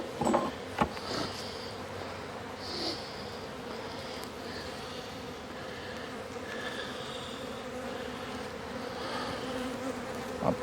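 Steady, close buzzing of agitated honeybees swarming around an opened hive during re-queening with a push-in cage, a dense drone with louder passes as bees fly near, and a few handling knocks.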